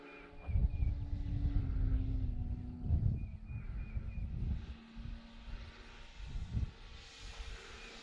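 A FLEX Innovations Cessna 170 RC airplane drones in flight, its motor a faint, steady hum that swells and fades slightly as it passes at a distance.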